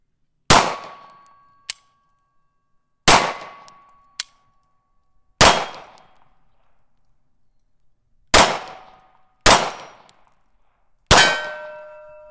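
A Hi Point Maverick JS 9 pistol fires six sharp, loud shots at irregular intervals, each a hard crack with a ringing metallic decay, separated by near silence and a couple of faint clicks.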